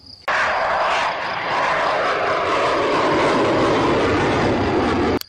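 A large model airplane engine drones steadily and loudly at a model flying field, a continuous roar that starts abruptly and cuts off near the end.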